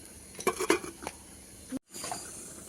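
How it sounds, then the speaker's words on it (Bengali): A metal lid clatters onto a pot of cauliflower and potato curry, with a few sharp clinks and scrapes of metal on metal before a brief silence and soft kitchen noise afterward. "এবার ঢাকা দিয়ে দেবো ঢাকা দিয়ে ফুটতে দেবো"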